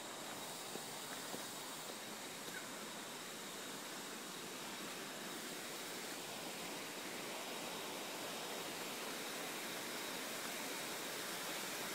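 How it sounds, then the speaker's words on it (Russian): A waterfall pours out a steady, broad rushing hiss, fairly distant and soft, unchanging for the whole stretch with no voices over it. "Так, а вот водопад"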